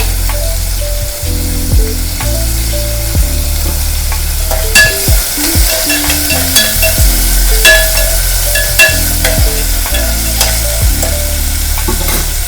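Tomatoes fry in a pan with onion and curry leaves, a loud continuous sizzle broken by regular scraping and clanking strokes of a spoon stirring against the metal.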